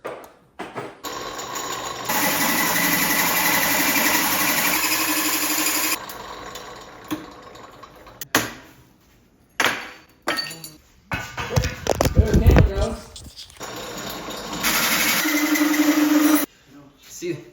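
Steady whirring of a drill press running in bursts, with a grinding, crackling patch in the middle as the bit bites into material.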